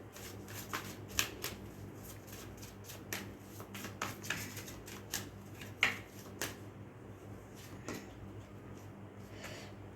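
A deck of cards is shuffled by hand, with repeated crisp riffling and flicking bursts in an uneven rhythm, close and fairly quiet, with no talking.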